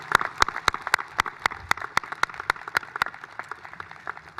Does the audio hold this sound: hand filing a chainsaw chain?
no